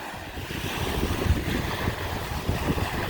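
Lake waves wash steadily onto a beach at Point Farms Provincial Park on a chilly day, a continuous rolling surf mixed with gusty wind buffeting the microphone, no voices.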